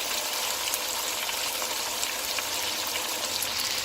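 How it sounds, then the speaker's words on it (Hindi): Water pours steadily into a pot of potato and meat curry, a continuous loud close gush that stays even throughout with no voices. "मैं 1 कप इसके अंदर पानी ऐड कर रही हूँ"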